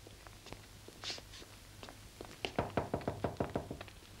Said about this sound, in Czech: Jděte a slušně zaklepejte.